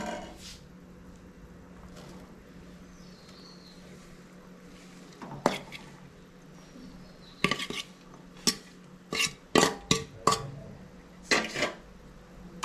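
A spoon stirs grated coconut into melted jaggery syrup in a pan. Quiet scraping comes first, then a run of sharp metallic clinks and knocks against the pan.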